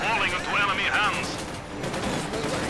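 Machine-gun fire in the strategy video game Company of Heroes 2, rattling bursts that mix with battle effects and a commentator's voice over the top.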